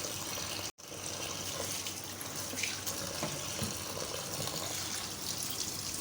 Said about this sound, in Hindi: ऊपर से पानी खोल दें।